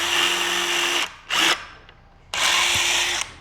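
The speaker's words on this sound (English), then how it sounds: "I got a little drill bit, and I'm gonna drill a hole" A small drill bit bores into a piece of lumber in two loud whirring bursts with a brief spin in between, separated by a quiet pause.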